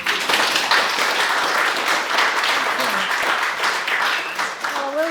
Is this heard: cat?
no